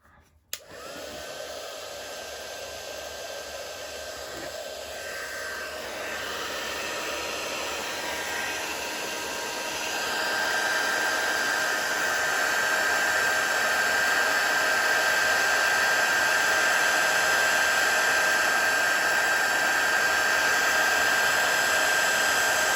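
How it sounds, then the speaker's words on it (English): A heat gun blows steadily to heat-set embossing on a greetings card, a continuous loud whooshing roar with a thin whine that holds and grows slightly stronger after a click at the start. "Let me just heat set that."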